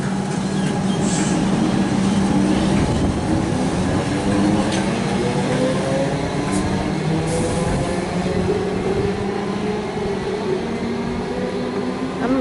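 A Melbourne suburban train departs Clayton station, a loud, steady rolling rumble of wheels on rails with faint squeals and clicks running throughout.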